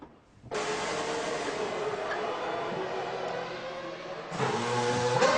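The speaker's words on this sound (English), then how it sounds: "We're just going to wait while Jos Verstappen comes out the garage." A Formula 1 car with a Cosworth-era engine leaves the pit garage at the 2001 German Grand Prix, its high engine note bursting in after a quiet start, holding steady, then rising louder near the end.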